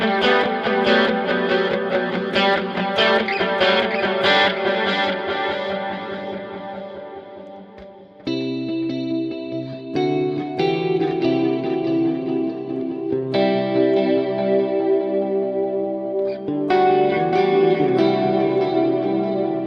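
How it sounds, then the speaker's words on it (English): An instrument played through two delay effects from a Logic preset rings out in dense, echoing phrases with repeats trailing behind each note, loud and sustained, with a brief dip before the layered echoes return. "Let's hear both delays."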